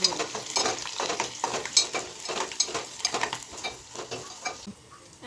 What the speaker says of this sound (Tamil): இப்போ நம்ம இஞ்சி பூண்டு போடுறோம்